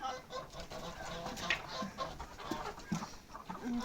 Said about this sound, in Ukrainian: мої кури йдуть на сідало